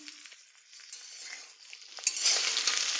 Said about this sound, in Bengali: ফোড়ন ভাজা হয়ে গেছে দেব কেটে রাখা বেগুন